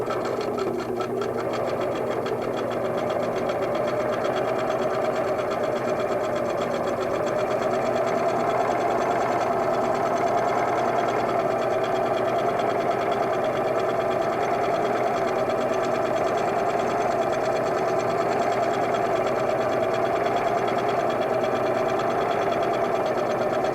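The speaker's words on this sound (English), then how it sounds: "so we'll sew our last border piece on." Singer sewing machine stitching a quilt border piece, a steady fast mechanical whir with rhythmic needle clatter, continuous and close, with no talk.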